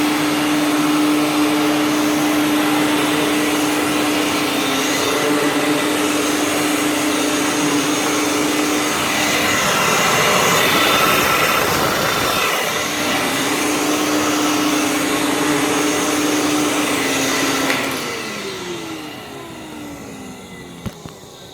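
An IEC Compact Electra C8 vacuum cleaner with a power head runs nearby in a loud, steady drone with a shifting tone, then winds down and fades near the end.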